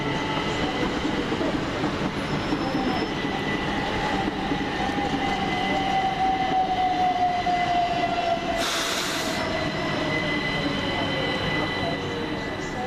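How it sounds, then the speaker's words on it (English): Two coupled class 377 electric units forming the East Grinstead service arrive at East Croydon station, a steady broad rumble of wheels and motors filling the platform, with a gliding pitch and a brief bright hiss near the end. "Comes the East Grinstead train, 377451 and 377469."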